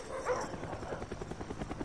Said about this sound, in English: Dogs incoming.